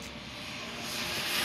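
A Hoshi 517 RC truck's electric motor runs at full throttle, fitted with cheap foam tires, giving a rising, steady high-pitched whine that grows louder over a second and a half, with no talking.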